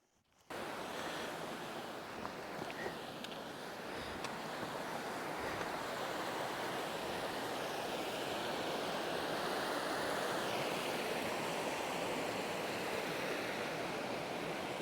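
Steady roaring rush of water pouring into a plunge pool below a waterfall in the Lake District fells, broad and continuous for the whole stretch, with some wind noise on the microphone and no talk.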